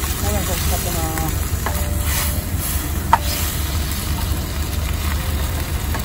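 Food stirred in a small pan over low heat inside a long-haul truck cab, a soft sizzle with occasional light scrapes and one sharp clink, all over a loud steady low engine idle drone.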